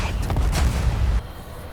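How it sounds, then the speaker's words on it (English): Missile strike explosions in the Totenreich map of Call of Duty Black Ops 7 Zombies: a heavy, rumbling blast with crackling debris rolls on loudly for over a second, then cuts off sharply into quieter background. "If you did it correctly, it's going to launch another missile strike."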